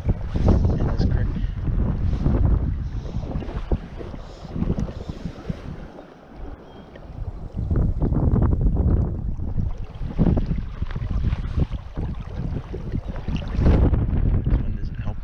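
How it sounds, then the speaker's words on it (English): Gusty wind beside Chest Creek in Pennsylvania during fly fishing buffets the microphone with a loud, continuous rumble. It eases briefly midway, then picks up again. "This wind isn't helping."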